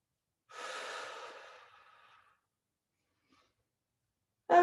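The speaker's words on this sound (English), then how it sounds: "Long exhales." A long, breathy exhale during a floor-based core exercise in a balance and coordination workout, steady for about two seconds and then fading, followed by quiet and a brief sharp sound at the end.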